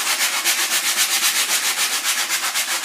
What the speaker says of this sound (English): start sanding it off. And I'm using 120 grit sandpaper